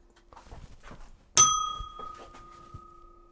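A single bright ding from a bell rings out sharply, then a long ringing tone decays slowly, with soft knocks and handling noises before and after.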